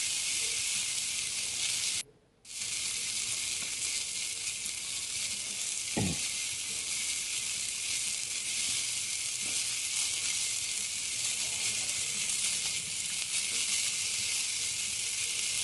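Shrimp for shrimp scampi sizzle steadily and loudly in a hot pan, a continuous bright hiss with one brief drop-out and a single clink partway through, no talking.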